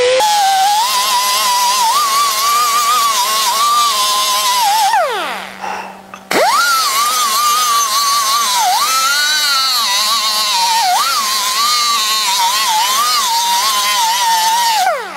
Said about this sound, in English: So I'll take that 50 grit again. I'll just scratch this up where the handle's going to be.